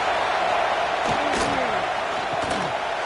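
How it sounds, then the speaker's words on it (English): A football stadium crowd roars on a fourth-down play as a dense, continuous wash of noise, with scattered thumps and rising shouts or whistles cutting through. "Fourth down, and this crowd trying to help this defense rise to the occasion."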